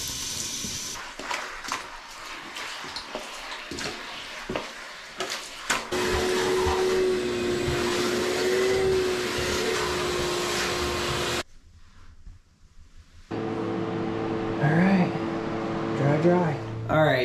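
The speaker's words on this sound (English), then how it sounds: "suck it up with the shop vac" Shop vac sucking water off a bare concrete floor after tile removal, a steady loud motor roar with wet slurping that cuts out briefly then resumes, with some handling clatter at the start.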